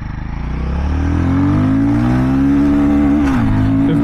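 Royal Enfield Guerrilla 450 motorcycle pulling hard in first gear during a top-speed run, its engine note climbing steadily in pitch close up and loud, then easing off near the end.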